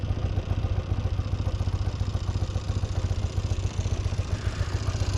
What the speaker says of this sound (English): Idling beautifully right now.